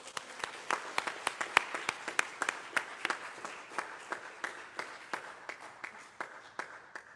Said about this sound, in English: A round of applause for Amanda Lawrence.